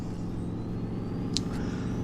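A truck engine in the Snowrunner video game runs at a quiet, steady low drone, with a brief hissing burst midway.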